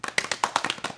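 Quick, dense hand clapping from a live event audience, a run of sharp claps of uneven rhythm filling the whole second, close and fairly loud.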